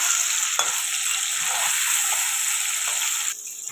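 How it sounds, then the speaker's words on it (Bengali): Potatoes fry in a pan while a sizzle rises, with a few stirring scrapes, during cooking of a vegetarian paneer dish; the hiss is loud and steady throughout and drops away near the end. "আলুটাকে এবার ভালো করে ভেজে নেবো।"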